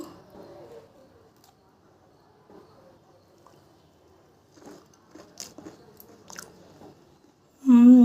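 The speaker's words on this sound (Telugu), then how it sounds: "కానీ ఉల్లిపాయ కారంతో ఫస్ట్ టేస్ట్ చేసి చూద్దాం" Someone eating crunchy Rayalaseema kandi billalu, a fried snack, with onion chutney makes a few close, faint crunching bites spread through quiet, followed by a short burst of voice at the end.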